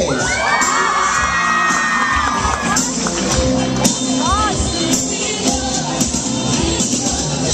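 Guests at a quinceañera cheer, whoop and shout in a loud, continuous crowd roar with a few sharp bangs, filling the room throughout.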